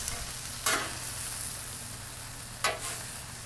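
Onions and alligator meat sizzling in a pan for tacos, a steady close frying hiss with two brief sharp scrapes or clatters of a utensil; no one speaks.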